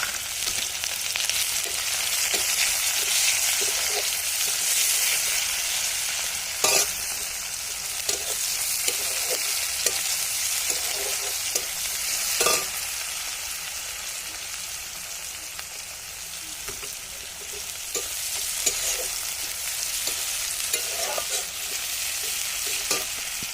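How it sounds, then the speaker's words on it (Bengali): Chopped onions fry in a hot pan for a mutton dish, giving a continuous loud sizzle with occasional clinks and scrapes of stirring, and no voices. "এবার দিয়ে দিচ্ছি কেটে রাখা পেঁয়াজ।"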